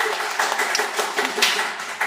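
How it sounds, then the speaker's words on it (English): A studio audience claps in a dense, continuous patter of many hands, fairly close and lively for a couple of seconds. "There's actual clapping happening in the studio"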